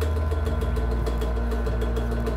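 A JET JDP-15B benchtop drill press motor runs steadily at a slow pulley speed, a loud continuous hum with a low rhythmic throb and faint rattle, with no voices.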